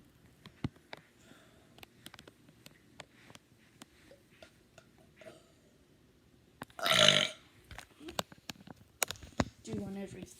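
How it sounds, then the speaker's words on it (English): A single loud, rough burp erupts partway through, standing out against a quiet room with faint clicks and rustles around it. "burping again."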